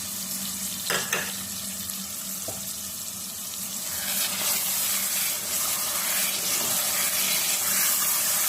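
Onions fry in a pot and give off a steady sizzle with a wet, hissing texture that grows a little fuller partway through, along with a few soft stirring knocks, and no voices can be heard.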